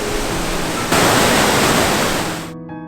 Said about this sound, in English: This is Devil's Punch Waterfall, and I can literally feel the water spraying off the waterfall.